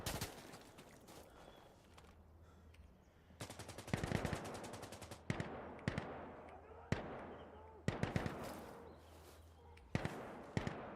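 Gunfire in Insurgency Sandstorm, a tactical shooter game: repeated bursts of rapid automatic shots and sharp single cracks over a steady low hum, loud and close, with a voice talking between volleys.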